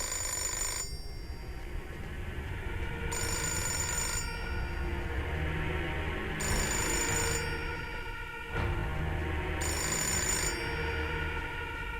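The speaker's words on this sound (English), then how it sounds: "I just need to answer the telephone." An old-style telephone bell in Indigo Prophecy rings in repeated bursts of about a second each, separated by short pauses, loud and close over a low background hum.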